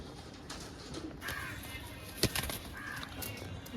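Fresh, active flying pigeons coo softly and flap their wings close by, with short bursts of flapping and a sharp clap in the middle over a low, steady background hum.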